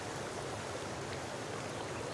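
A flowing stream in the survival game Sons of the Forest, a steady broadband rush of water running without pause, even in level and fairly quiet, with no voices over it.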